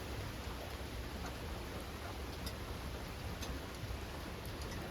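Rain from an arriving storm falls around a porch, a steady hiss of drops with scattered sharper ticks, even and continuous with no voices.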